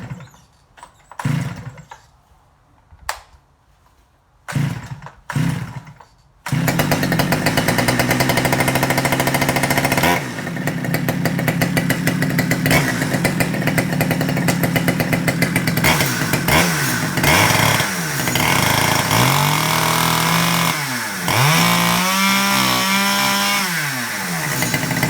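A Stihl 009L chainsaw is pulled a few times, then fires and runs with the throttle locked open, a loud continuous buzzing whine that wavers and revs near the end.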